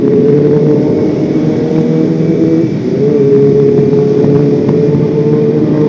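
A Kawasaki ZX25R motorcycle engine sings close by with a loud, sustained high-pitched whine, dipping briefly mid-way before climbing back to a steady rev.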